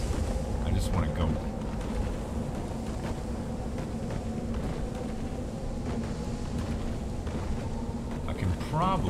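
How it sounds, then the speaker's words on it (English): A storm in the space exploration game Astroneer fills the scene with a steady rushing roar of wind and debris and a low rumbling underneath. The noise holds at an even level throughout, with a voice faintly present beneath it. "Come on, storm. Hurry up and pass."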